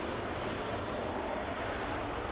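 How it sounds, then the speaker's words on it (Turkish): Continuous roar of military fighter jets taking off from the air base in Diyarbakır, a dense, loud, unbroken engine blast with no voices. "Bu arada cumartesi sabahı Diyarbakır'daki üsten 5 savaş uçağı havalandı."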